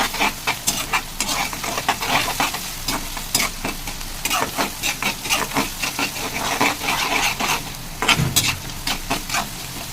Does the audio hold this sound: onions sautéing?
yes